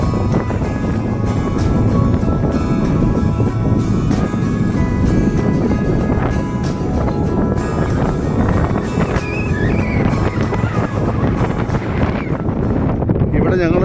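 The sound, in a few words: strong cold wind at high mountain pass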